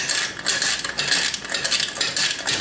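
A small hexagon nut being loosened on an Alvin swing-arm combination lamp gives a steady, close metallic ratcheting and grinding with quick repeated clicks, dense and continuous with no one talking.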